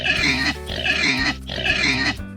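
A pig grunts and squeals in three repeated bursts, close and steady, over continuous background music.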